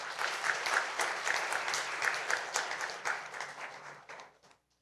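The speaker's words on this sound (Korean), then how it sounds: "넷달바님을 위해 큰 박수 부탁드립니다" Audience at a South Korean Bitcoin conference applauds a speaker, a dense wash of clapping that holds steady and then tapers off to silence near the end.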